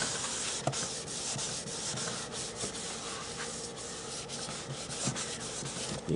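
A cloth rubs steadily back and forth over the varnished wooden surface of a Gerstner toolbox, wiping off excess finish, a close, continuous dry scrubbing with small knocks and no voices.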